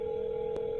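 A telephone dial tone hums steadily and evenly throughout, with a brief click partway through, while a number is being called.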